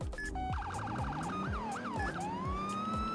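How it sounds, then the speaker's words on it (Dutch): Police and emergency sirens in the Roblox game Emergency Response: Liberty County, with several wailing and yelping tones that sweep and overlap over a steady engine hum and rhythmic thumps, close and loud, with no talking. "Ik hoor sirenes. Ik moet helpen."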